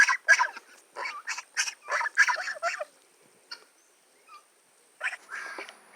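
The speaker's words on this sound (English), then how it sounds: "They still don't sound like grown geese yet, but they're getting close. Their voices are changing." Young geese on a farm calling with changing, not-yet-adult voices: a run of short, breaky honks and squeaky cries close by, then a pause and a few more calls.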